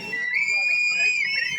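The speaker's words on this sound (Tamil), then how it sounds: "ஆனா எல்லாரும் விசில் அடிங்க." A sharp, sustained whistle rises over a crowd at an outdoor Karakattam folk dance performance, holding a shrill steady tone for over a second with faint crowd noise beneath.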